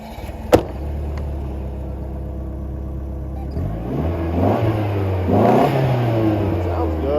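A classic turbocharged Chrysler car stuck in a hole idles with a steady low drone after a sharp knock, then revs up hard in rising surges, close by, with brief voices at times.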